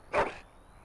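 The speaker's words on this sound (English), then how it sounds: "Happy Bark, yes, that's a Happy Bark." A mabari war dog in Dragon Age Origins gives a single short, bright bark, loud and close, then quiet.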